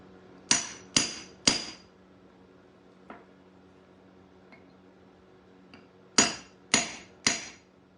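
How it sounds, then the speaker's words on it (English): Hammer striking a geode to crack it open, three sharp metallic taps in quick succession, a couple of faint light ticks, then three more hard taps, close and clear with no talk. "we're going to be creating a weak spot in this geode for that to finally crack open when we get to hitting it with some more force"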